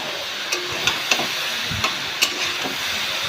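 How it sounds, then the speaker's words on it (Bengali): Water lily stems fry in a wok with a steady soft sizzle, broken every half second or so by sharp clinks of stirring. "অন্যদিকে শাপলা ভাজা হবে, সেটাও করছি।"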